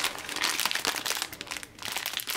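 Picmondoo diamond-painting kit stones are unwrapped, with paper packaging crinkling and crumpling close by in quick irregular bursts and a brief pause midway, without speech.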